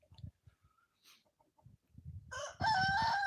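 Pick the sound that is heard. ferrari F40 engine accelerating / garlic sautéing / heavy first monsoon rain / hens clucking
hens clucking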